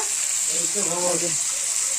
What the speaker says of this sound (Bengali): এখন চলো নুন হলুদটা দিয়ে একটু ভাজা করে নিব হালকা